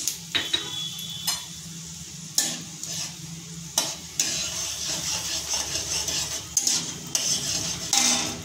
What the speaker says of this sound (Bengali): দিয়ে দিচ্ছি তেল, দিয়ে দিচ্ছি সর্ষে, দিয়ে দিচ্ছি উড়দ ডাল, দিয়ে দিচ্ছি শুকনো লঙ্কা